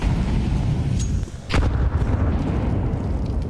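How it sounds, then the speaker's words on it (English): Gunfire and a flashbang in Counter-Strike at a pro esports match at IEM Cologne, heard as a loud burst of shots and a sharp bang over busy game and arena noise. "how's Frozen eaten that flashbang and still takes the kill"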